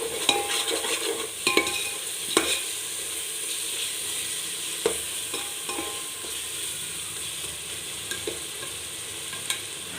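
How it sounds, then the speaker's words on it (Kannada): Masala gravy for chicken biryani frying and sizzling in a pan, with a steady hiss broken by several sharp scrapes and knocks of a spoon as it is stirred, no voices. "ಹಸಿ ವಾಸನೆ ಹೋಗೋವರೆಗೂ ಚೆನ್ನಾಗಿ ಹುರ್ಕೊಳ್ಬೇಕು"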